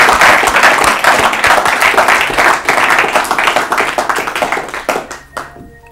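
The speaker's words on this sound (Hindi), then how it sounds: "ताली बजाइए इनके लिए।" A studio audience at an Urdu quiz show applauds the winner with loud, dense clapping that runs for several seconds, then thins out and tapers into scattered claps and quiet.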